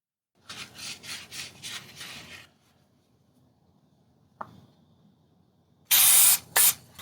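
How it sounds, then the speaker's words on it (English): A cloth wipes down metal parts from a BRN-180 rifle upper. A run of rhythmic rubbing strokes is followed by a quiet pause, a small click, and then two louder, harsher scrubbing bursts at close range. "I came back and started wiping these parts off"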